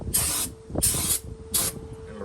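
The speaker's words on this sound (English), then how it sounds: "here we got our brake clean. Gonna see about spraying this down" Three bursts of brake cleaner aerosol spray on a flood-damaged rear differential, each a steady hiss lasting about a third of a second, with short pauses between and a faint low hum underneath.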